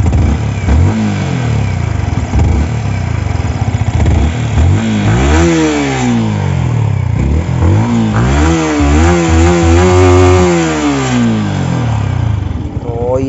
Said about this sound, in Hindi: ये रहा कुछ इसका एग्जॉस्ट नोट।